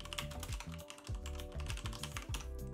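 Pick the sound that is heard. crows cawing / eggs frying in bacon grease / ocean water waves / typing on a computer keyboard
typing on a computer keyboard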